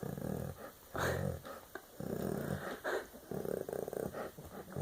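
A pet dog growls in low, rumbling bursts while having her ear rubbed, close and fairly loud, with breaks between the throaty grumbles.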